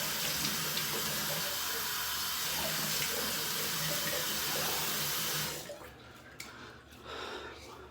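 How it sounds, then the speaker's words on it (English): A tap runs steadily into a sink while hands are rinsed and water is splashed onto a face, a loud gushing hiss that cuts off abruptly near the end, leaving faint drips and quiet handling sounds. "Let me go ahead and rinse off my hands, splash some water on my face"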